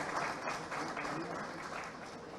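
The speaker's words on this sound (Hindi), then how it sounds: "जोरदार तालियों के बीच, तालियां रुकेंगी नहीं प्लीज।" An audience applauds at an education excellence award ceremony, a dense, steady wash of clapping from a crowd, moderately distant and unbroken throughout.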